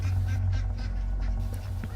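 Ducks quacking and honking in short repeated nasal calls over a strong low rumble, moderately close, with no talking.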